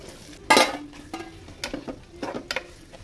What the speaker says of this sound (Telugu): ఇప్పుడు ఈ మగ్గిన ఆనియన్స్లో కొంచెం పసుపు అండ్ కొంచెం అల్లం వెల్లుల్లిపాయ పేస్ట్ కూడా వేసుకొని కలుపుకుందాం